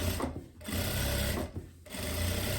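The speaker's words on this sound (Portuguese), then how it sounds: "agora a gente vira assim e faz um pesponto, dobrando a costura pro lado do revel" A sewing machine topstitches a seam on a linen skirt, running in steady loud bursts with two brief pauses between stretches of stitching, close up and with no talk.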